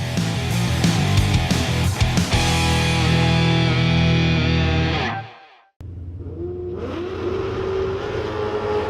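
A drag racing car launches hard into a wheelstand, its engine roaring loud and steady for about five seconds before cutting off abruptly, then a second engine droning on afterward.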